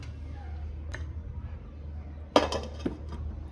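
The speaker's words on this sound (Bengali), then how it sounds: "ঢাকনাটা ডাইকা দিব।" A metal lid is set onto a cooking pot of steamed shrimp, a single clear clank with a short rattle, followed by a lighter tap, over a quiet low kitchen hum.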